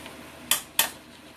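Dry pinto beans drop into a pan in two quick, bright clatters, close by in a quiet kitchen.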